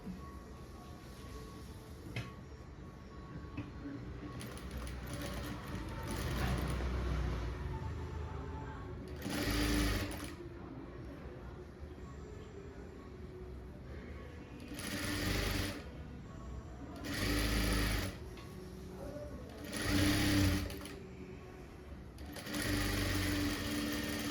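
A sewing machine stitches a fabric strip (patti) for a blouse in a tailoring class, running in several short bursts over a steady low background hum, with no talking.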